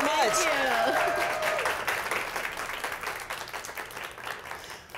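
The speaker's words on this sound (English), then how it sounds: "Give her a huge round of applause." Studio audience applause and cheering at a live home-themed talk show, loud at first and slowly thinning out over several seconds, with a voice talking over the start.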